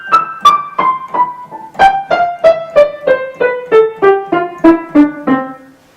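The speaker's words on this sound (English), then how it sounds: "Staccato is detached, it sounds separate." Short, detached piano notes played one at a time, each clearly separated, stepping downward in a steady rhythm before the last note fades.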